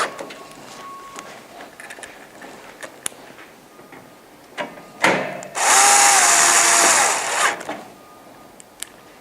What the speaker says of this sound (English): when you're screwing these in, you want to make sure you don't screw them in too tight